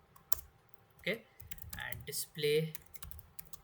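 Code is typed on a computer keyboard in short bursts of clicking keystrokes, close and fairly quiet, mixed with a person speaking.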